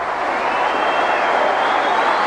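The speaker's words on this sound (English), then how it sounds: "Kevin Ward comes off to tumultuous applause" Rugby league crowd at a St Helens versus Widnes friendly applauding a veteran forward leaving the field, a loud, sustained roar of distant mass clapping and cheering filling the stadium without a break.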